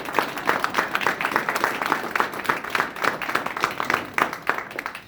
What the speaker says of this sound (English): So I want you all to join me in welcoming and giving a round of applause to Billy Fee and his wife Angie.